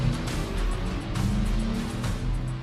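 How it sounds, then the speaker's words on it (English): An F4 race car engine drones loudly from the cockpit while driven with a manual gearbox, a steady buzzing roar with slight pitch shifts and brief bursts, continuous throughout. "First time driving manual in an F4 car is fucking scary, bro."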